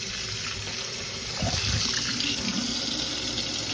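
Water drains from an apartment sink during maintenance work, a steady running and gurgling wash with a fuller surge partway through, close and moderately loud, with no talking.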